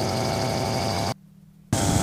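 An ELA gyrocopter engine drones loudly and steadily in flight, heard close up from the cockpit, drops to a low hum for about half a second, then returns at full strength.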